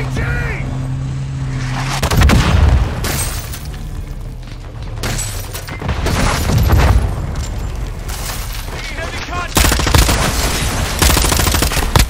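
Call of Duty: Modern Warfare II combat in a valley, where bursts of machine-gun fire and heavy booms from an RPG launch and blasts repeat in loud waves across the fight, with faint voices beneath.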